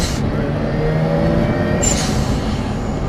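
A turbocharged 2005 Mazda RX-8 rotary engine runs steadily under its own power, a loud, close, continuous drone with a brief hiss partway through.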